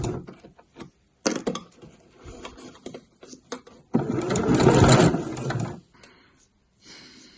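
Sewing machine stitching along the edge of binding on a mesh laundry bag, with short bursts of whirring early on, then a louder sustained run near the middle before falling quiet, with a brief resumption at the end.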